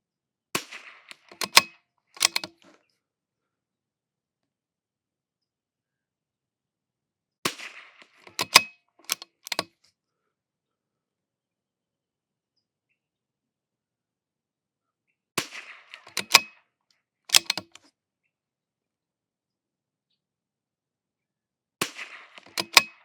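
Rifle shots fired at an outdoor range with Eley Ultra Extreme ammunition come in four spaced groups of two or three sharp cracks, loud and close, with silence between the groups.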